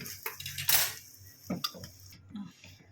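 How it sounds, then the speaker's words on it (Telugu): Ivy gourd pickle being mixed in a dish, with quick clinking and scraping of a spoon against the vessel in a few short bursts, faint murmuring in the background. "కలుపుకోవాలి."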